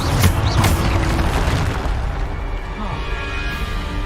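Depulsor spell cast in Hogwarts Legacy, a loud booming burst with a sharp impact up front and a ringing, rumbling tail fading over several seconds.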